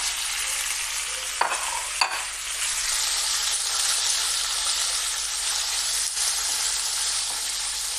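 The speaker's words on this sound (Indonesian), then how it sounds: "sudah matang, sudah mulai panas, kita masukin dagingnya" Beef frying in hot oil in a pan, a loud, steady hiss and sizzle heard up close, broken by a few sharp spatters early on and again later, with no speech.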